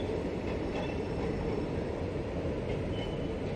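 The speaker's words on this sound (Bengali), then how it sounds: "এই দেখো ট্রেন যাচ্ছে বাড়ির সামনে দিয়ে" A train passes in front of a house, its steady broadband rumble and rolling wheel noise holding constant throughout at moderate distance, with no voices.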